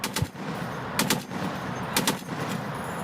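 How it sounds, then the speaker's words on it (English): A machine gun sound effect firing in short, loud, crisp bursts of rapid shots, separated by brief pauses, with no voice over it. "It's a machine gun! Machine gun!"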